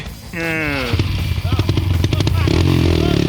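A motorcycle revs hard while climbing uphill over rocks, engine note rising with clattering and knocking of tyres on stone, loud and close, with excited voices shouting over it.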